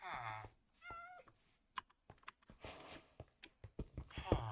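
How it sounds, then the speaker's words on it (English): A cat in the video game Minecraft meows a few times, interspersed with soft clicks and short breathy sounds, fairly quiet overall. "That cat running around was kind of freaking me out."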